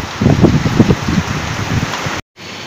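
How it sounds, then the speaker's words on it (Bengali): Rain pours down as a dense, loud, steady wash of noise, with uneven low thuds underneath and a short cutout near the end. "আল্লাহ তাআলার নিয়ামত এক বৃষ্টি।"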